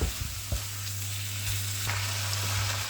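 Minced meat fries in a skillet with a constant close sizzle, and a few scraping strokes of stirring break up the lumps.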